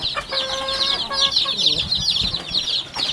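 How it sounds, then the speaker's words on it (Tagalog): Chicks crowd together in a pen, their many high, rapid peeping chirps overlapping continuously and close by, with a faint voice in the background. "So, ito lang ating mga alagang sisiw. Sama-sama lang sila dito."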